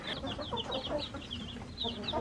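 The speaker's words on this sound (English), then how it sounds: "our broilers, which is a term for meat birds, they just arrived yesterday" Newly arrived broiler chicks, meat birds in a brooder of 75, peep continuously in high, rapid overlapping chirps over a steady low background hum.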